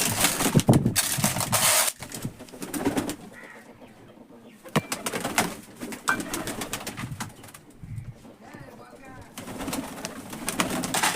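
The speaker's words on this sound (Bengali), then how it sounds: "দেখতে পাচ্ছেন পায়রাগুলো কিন্তু খাবার জন্য একদম ছাপিয়ে যাবে" Pigeons crowd in and flap around freshly scattered feed, with bursts of wingbeats and scuffling close by alongside a few soft coos, the activity loud and busy in waves across the scene.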